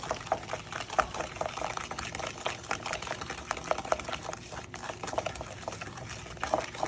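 Cookie dough for a giant cookie being mixed after egg yolk and vanilla are added, a quick run of wet, clicking stirring strokes against a bowl, close and moderately quiet.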